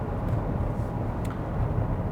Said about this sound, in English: It's a bit windy today, so I'm hearing a little bit wind noise coming from the side